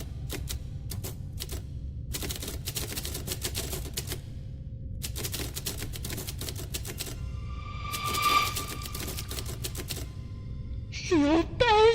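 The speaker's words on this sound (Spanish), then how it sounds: "Woody, Buzz y el señor Cara de Papa, utilizando una máquina de escribir para dejar un último mensaje" Typewriter keys clack in quick, uneven bursts with pauses between them, close and clear, and a bell dings partway through. A voice briefly calls out near the end.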